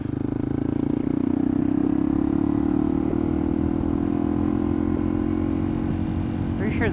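A slow motorcycle on a road ride, its engine droning steadily and loudly up close with a constant low hum and wind rush throughout, holding an even pace without clear revving.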